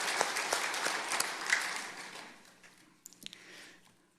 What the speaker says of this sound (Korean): 우리 하나님께 감사의 박수를 올려드리십시다